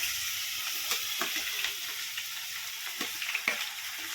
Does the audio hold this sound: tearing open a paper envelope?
no